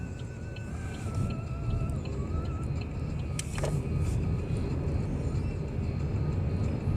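A 2015 Chevrolet Cruze drives through traffic while pulling to one side, with a steady, moderately loud cabin drone of engine and road noise and a brief faint click partway through.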